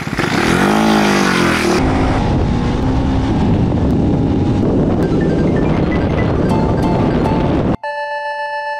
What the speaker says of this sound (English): Time for a top speed test. Let's see how fast the new KTM 390 Duke is.